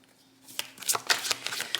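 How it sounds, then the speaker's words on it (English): A deck of tarot cards is shuffled up close, a quiet start giving way to a run of quick riffling and flicking bursts that repeat for about a second and a half. "this is why I shuffled on camera"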